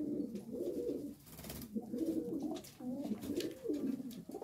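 Striped pigeons coo softly and repeatedly nearby, several low throaty calls rolling one after another with no talking.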